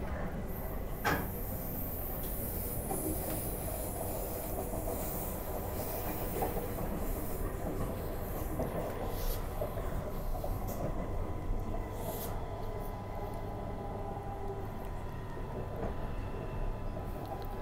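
A Perth suburban passenger train runs along the line, heard from inside the carriage as a continuous rolling rumble with occasional clunks and rattles; faint voices occur at moments.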